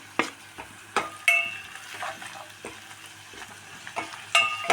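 Spoon stirring turmeric, chili and coriander powders with salt into a frying pan for tomato curry, with a soft sizzle under repeated scraping strokes at close range.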